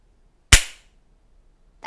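A mousetrap snaps shut with a single sharp, loud crack that decays quickly into a short ringing tail, close by in a quiet room, then near silence.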